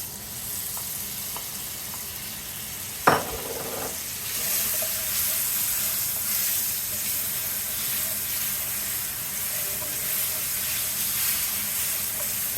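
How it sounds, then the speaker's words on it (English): Bananas dropped into hot, smoking sugar in a pan, opening with a sharp clatter and burst, then a steady close bright sizzle that runs on evenly to the end. "But I'm going to go ahead and add my bananas here."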